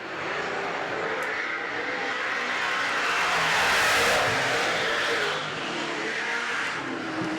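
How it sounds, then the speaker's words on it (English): A big-block super saloon race car engine roars at speed on a speedway oval, its deep exhaust note swelling to a peak as it passes close by, then easing back, with no talk over it. "Completely different exhaust note"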